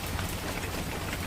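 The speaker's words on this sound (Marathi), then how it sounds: "आणि पहा पाऊस पडत आहे." Rain falls outdoors in a dense, even hiss that stays constant across a brief moment, with no voices.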